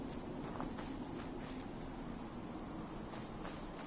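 Steady rain patters in Fallout 4's survival mode, a soft continuous hiss with scattered drop taps and a few faint thuds like footsteps, quiet and unbroken, with no talking.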